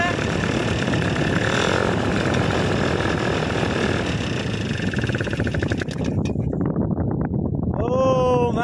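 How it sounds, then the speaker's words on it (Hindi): A paramotor engine drones loudly in flight thousands of feet up, then its roar drops away as it is switched off mid-air, leaving rushing wind and a voice. "ऊपर इंजन ऑफ कर रहे हैं।"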